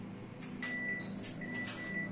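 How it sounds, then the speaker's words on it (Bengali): A convection oven's control panel being set to 200 for preheating gives a couple of drawn-out electronic beeps over a low, steady appliance hum, heard close and fairly quiet. "200 সিলেক্ট করলাম, করে প্রিহিটে দিয়ে দিচ্ছি"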